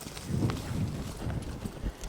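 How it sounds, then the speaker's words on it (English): Horse hooves cantering under a rider in a western loping session, a steady three-beat rhythm of close, dull thuds on soft ground repeating throughout. "push this horse to canter"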